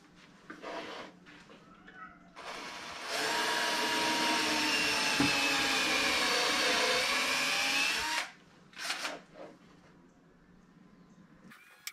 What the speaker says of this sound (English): Block of wood to support the back as I'm drilling.